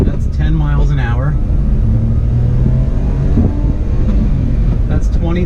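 A 1994 Honda Acty kei truck with a 30 horsepower engine and very low gearing drones steadily from inside the cab as it pulls in low gears, someone talking over the engine hum.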